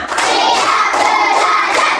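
A class of children claps together in a rhythmic counting clap game during a Catholic religious education lesson, loud group clapping with shouted voices close by.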